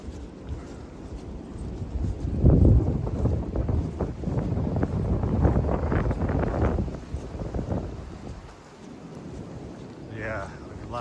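Strong gusts of 40-45 mph wind roar through a forest trail lined with leaning trees, a loud continuous rushing that swells and buffets the microphone, with footsteps and a brief voice near the end.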